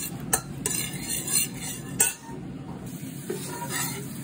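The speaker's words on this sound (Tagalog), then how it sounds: "Halu-haluin para maluto yung sibuyas, bawang." Onion and garlic sautéing in olive oil while being stirred, a low crackling sizzle broken by sharp metallic clinks and scrapes of a utensil against the pan, close and uneven in rhythm, no speech.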